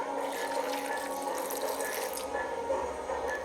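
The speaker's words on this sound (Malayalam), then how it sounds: "എന്നാലും കുറച്ച് വെള്ളം ഒഴിച്ചു കൊടുക്കുക" Water is poured into a pressure cooker while making traditional Kerala koottu curry, a steady splashing trickle that runs continuously at moderate volume, with no talking.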